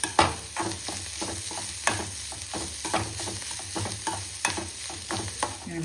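Onion and grated coconut fry in a pan while being stirred for egg thoran, with a steady sizzle broken by repeated, rhythmic scraping strokes up close.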